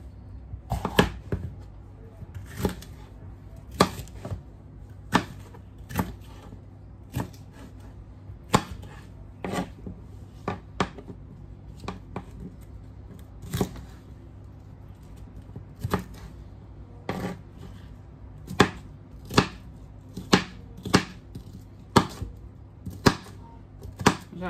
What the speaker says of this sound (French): ensuite je vais couper mes poivrons